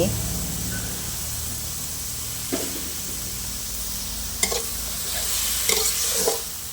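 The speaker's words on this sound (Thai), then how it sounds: "นี่ผัดให้เข้ากันเลยกลิ่นหอมฟุ้งเลยนะคะ" Asparagus and minced pork stir-fry in a hot pan, with a steady close sizzle and occasional scraping stirs while someone talks throughout.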